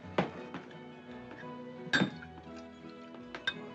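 Whiskey is poured into a glass in an old western saloon, with sharp glass clinks at intervals over a soft continuous pour and faint background hum.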